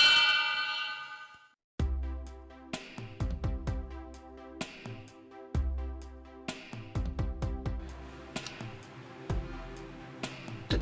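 A series of bright, ringing bell dings sounds as a notification chime: one long decaying tone, then a rapid sequence of struck dings with overlapping ringing tails, with no talk.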